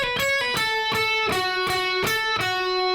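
Electric guitar picking a short phrase from a song: clear sustained single notes struck in a steady rhythm, about seven plucks over a few seconds, close and alone without talk.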